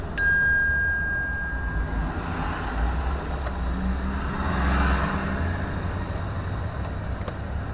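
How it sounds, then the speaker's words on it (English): Buses rumble along in traffic in Fredericton, giving a low steady engine drone with passing swells. A bright electronic ding and tone also sound over the road noise. "Oh, it looks like the buses are on the move."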